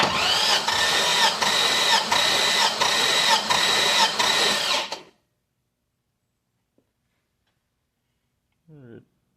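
An engine cranks over rhythmically during a cylinder compression test, a loud, even chugging with regular pulses for about five seconds, then stops abruptly and leaves near silence with a faint click and a brief voice at the end.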